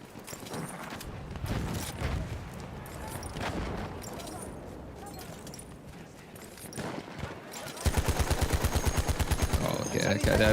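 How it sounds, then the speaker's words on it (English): Gunfire in the Battlefield 1 shooter: scattered shots and bursts amid battle noise, then a rapid, evenly spaced machine-gun stream near the end, with a voice speaking over parts of it. "Lay down some covering fire."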